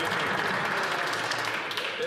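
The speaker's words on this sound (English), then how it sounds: "Big round of applause there." Applause fills the House of Commons chamber during Question Period, a steady, dense wash of clapping from many members that holds an even level for the whole stretch.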